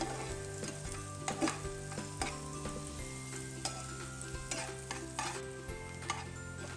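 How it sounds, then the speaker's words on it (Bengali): Onions softening in a pan for a small shrimp dish, frying with a continuous sizzle while a utensil stirs them in repeated scraping strokes, close and steady, with a low tonal hum underneath. "এখন আমি ভালো মতো করে পেঁয়াজটাকে একটু নরম করে নিব"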